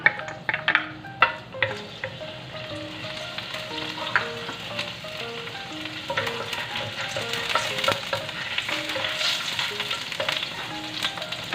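Chopped garlic sautés in a pan for sinigang na munggo, with a loud, steady sizzle and a few sharp utensil clatters near the start and no voices.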